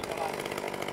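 A chainsaw sawing dry wood at a chainsaw meetup in Százhalombatta, Hungary, heard as a brief, steady, fairly distant buzzing drone with no distinct cuts.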